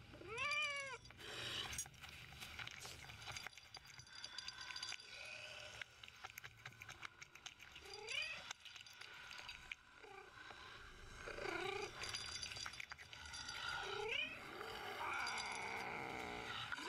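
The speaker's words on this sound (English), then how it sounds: "I really hope that cat got away." A cat in the video game Dead Island 2 gives several drawn-out, wavering meows at intervals, heard over a dense game soundscape of rumbling ambience and clattering effects.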